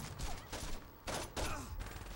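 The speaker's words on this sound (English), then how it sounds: "You stop shooting me." Gunfire in Saints Row bursts out in several loud volleys of broadband shots with short gaps between them, close and dense, with no talk over it.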